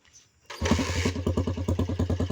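A Honda TMX 155 motorcycle engine fires up and runs, with rapid, regular popping backfire bursts repeating loud and close, with no talk.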